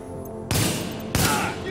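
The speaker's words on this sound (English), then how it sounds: "He's got a machine gun!" Two sharp bursts of automatic gunfire from The Division, each loud and abrupt, with a pause between them. Faint game ambience sits underneath.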